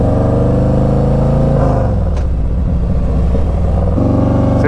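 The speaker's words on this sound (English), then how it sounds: "Just barely twisted the throttle." Harley-Davidson Street Glide Special FLHXS motorcycle accelerating, a loud close V-twin rumble that rises through the revs, eases off briefly, then pulls hard again at the end, with no talk.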